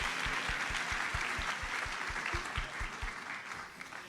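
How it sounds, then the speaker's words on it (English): Audience applause for a research assistant at a law school pro bono recognition celebration, a steady crowd clapping with a few distinct claps standing out, sustained for several seconds. "I think Elena deserves a round of applause"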